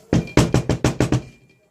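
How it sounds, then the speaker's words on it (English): Six firm knocks on a brick house door, the home of the third little pig, landing in a quick, fairly even rhythm, close and loud, then silence. "I knocked on the brick door."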